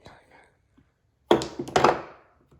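A cue strikes a ball on a small tabletop mini pool table, giving a close, soft thunk followed by a second knock as the balls roll, with quiet talk just before.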